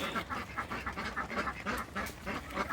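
Several ducks quack close by in quick, overlapping bursts, a busy chattering flock.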